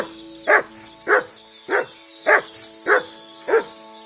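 A dog named Mutt in Kingdom Come: Deliverance 2 barks six times in a steady, evenly spaced rhythm, loud and close, alone over a faint low background hum.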